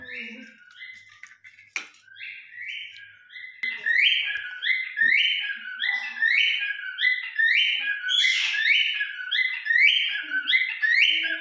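Myna bird chirping and calling up close in a rapid repeating series of bright notes, starting sparse and then running steadily for several seconds, with faint background clatter.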